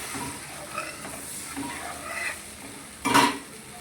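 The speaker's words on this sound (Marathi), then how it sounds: "आता ते कालवलेलं बेसन टाकू. हलवून घेऊ" Besan batter being stirred into a hot pan of turmeric-spiced oil for zunka, a soft steady sizzle and scraping that ends in a louder clatter of the spoon against the pan.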